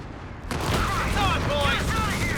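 Rapid bursts of rifle and machine-gun fire from the real-time strategy game Company of Heroes 3 crackle in a dense, continuous battle mix, with scattered sharp reports over a rumbling background.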